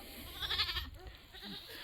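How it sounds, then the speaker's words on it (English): Goats bleat faintly in the distance with one short wavering cry and a softer follow-up, all quiet under a low background hiss. "I'm sure you can hear the goats."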